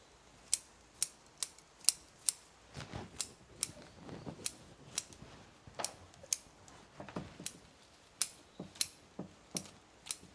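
Scissors or shears snip maple branches during pruning, giving sharp, crisp cuts at an irregular rhythm, close and fairly quiet, with small rustles of twigs between them and no talk.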